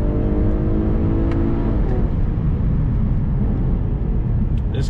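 A 2021 Infiniti Q60 Red Sport 400 accelerates in first gear, its engine a loud, steady drone that climbs in pitch early on and then holds under heavy road noise, with no talking.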